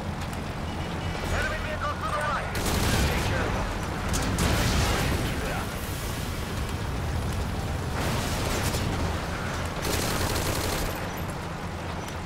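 Weapon fire and rockets in the vehicular combat game Vigilante 8 keep up as a loud, continuous barrage with repeated bursts and blasts, while a person talks over the action.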